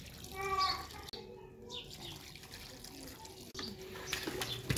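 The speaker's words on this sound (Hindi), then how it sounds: "अभी डाल रहे हैं जी पानी" Water pours into a mix of sand and cement for plastering a courtyard floor, a steady, close splashing and trickling that runs through the clip with a couple of brief breaks.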